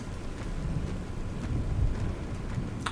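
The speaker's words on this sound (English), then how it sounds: "Sounds like it's raining. Cue the thunder." Steady rain and rolling thunder in the survival video game ARK on PS5, a continuous dense wash of rainfall over a low rumbling undertone, moderately loud and unbroken, with no voices.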